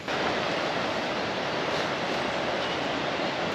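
A small waterfall near a fountain gives a steady, broad rushing hiss of falling water, fairly close and unchanging.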